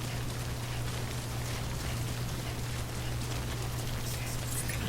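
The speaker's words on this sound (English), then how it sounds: "Don't stay out in the rain any longer than you have to." Steady rain in the video game Death Stranding, a constant hiss of drops with a low droning hum underneath, continuous and even throughout with no talking.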